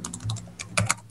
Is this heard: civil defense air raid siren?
no